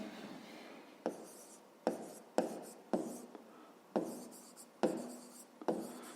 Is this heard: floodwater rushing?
no